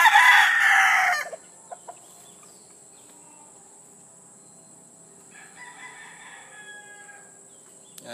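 A rooster crows loudly up close for about a second, then near quiet with insects buzzing faintly in the background and a softer distant crow or cluck from the chickens near the end.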